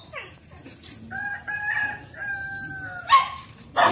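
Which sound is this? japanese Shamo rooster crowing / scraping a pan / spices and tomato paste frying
japanese Shamo rooster crowing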